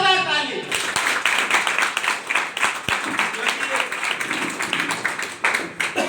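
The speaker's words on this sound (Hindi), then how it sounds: "एक बार आप लोग के लिए जोरदार ताली।" An audience clapping loudly at an event in Hazaribagh, dense, fast, energetic applause close up and sustained throughout, with a few sharper individual claps popping out.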